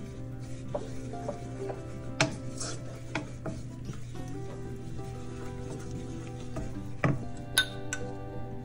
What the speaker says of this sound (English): Add some flour in there